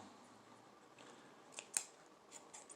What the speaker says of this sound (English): you can just cut them off, cut the strings off